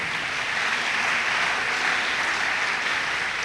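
A hall audience at a university matriculation ceremony applauds in honour of Anama Mensah, dense continuous clapping at a steady level for the whole stretch, with no voices over it.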